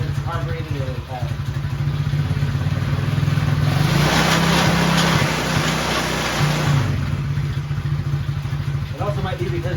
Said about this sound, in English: that motor sure does shake a lot